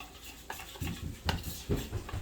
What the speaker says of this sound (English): I'm just going to mix it together real good.